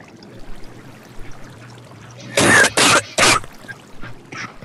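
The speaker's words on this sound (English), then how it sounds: "why are you coughing?" Three loud, broad coughs in quick succession from a nearby person at a survival campsite, standing out sharply against quiet background murmur, with a couple of fainter sounds trailing after.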